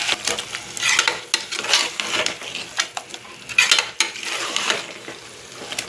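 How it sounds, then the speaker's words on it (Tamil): Thick ground masala paste sliding into a hot pan for home-style chicken gravy, with a steady sizzle, wet splatter and a few utensil clinks against the pan, close and continuous. "அரைச்சி வச்ச மசாலாவை இதில் ஊற்றிக்கலாம்."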